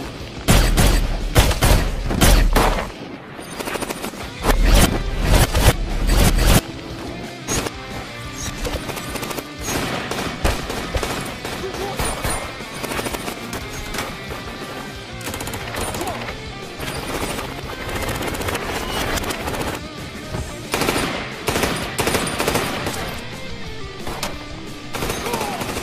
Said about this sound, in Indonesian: Pada saat mereka saling baku tembak